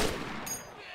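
Gunfire from a player's weapon in the DayZ Mod zombie game, a burst of shots sounding close and loud at the start, then a quieter rattling tail.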